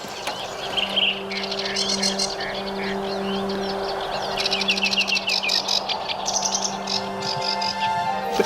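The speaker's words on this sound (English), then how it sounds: "the sedge warbler goes off on this fabulous jazz freestyle and does a song flight" A sedge warbler sings during its song flight over a river, a rapid, jumbled run of chirps and trills that comes in bursts above a steady low hum.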